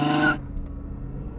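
Mercedes SLR McLaren launching off the line in a drag race against a Ferrari GTC4 and Aston DBS, a loud engine roar that cuts away abruptly to a lower rumbling drone.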